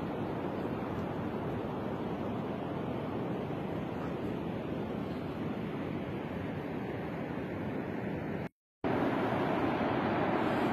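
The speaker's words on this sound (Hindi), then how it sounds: "वो नीचे से पानी का एक चश्मा बहता हुआ आ रहा है" A spring stream flows down through a valley in Hunza, Gilgit-Baltistan, making a steady broadband rush that stays even throughout apart from a brief break near the end. No voices are heard.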